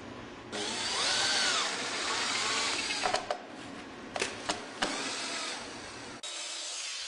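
A power drill drives screws into a Trex rail post, its steady motor whine running for several seconds and broken by a few sharp clicks and brief pauses, close and fairly quiet, with no voices.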